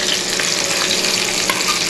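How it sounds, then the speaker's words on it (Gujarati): Chopped tomatoes and garlic-chili paste fry in hot oil, giving a dense, continuous sizzle with a light stir near the middle, close and steady, with no voices. "તેલ ગરમ થઈ ગયું છે, એમાં આપણે ટામેટા ઉમેરી દઈએ। અને એમાં આપણે લસણ અને મરચાંની પેસ્ટ પણ ઉમેરી દઈએ સાથે"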